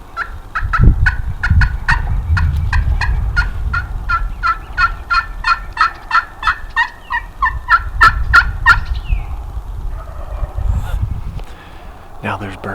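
Wild turkeys gobble repeatedly in Nebraska, a long run of loud, rapid overlapping gobbles from a flock nearby, with rustling and footsteps underneath and one late burst at the end.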